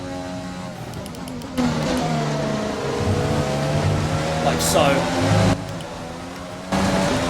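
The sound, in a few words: race car braking into a corner in the video game F1 2020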